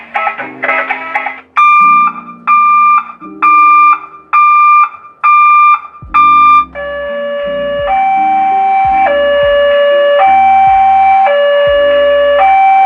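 Vehicle reverse alarm from a custom bus or truck horn setup, a loud electronic beeping in rapid repeated pulses that shifts to a slower alternating two-tone pattern with low thumps beneath, with no voices.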